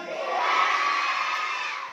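Audience at a school quiz contest in an Islamic boarding school cheering and shouting together, a dense and loud crowd roar that holds steady throughout and eases slightly at the end.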